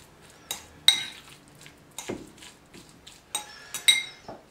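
A spoon mixing diced shaved ham through a double-baked stuffed potato filling in a bowl, several close clinks and scrapes of metal on dish in an uneven rhythm.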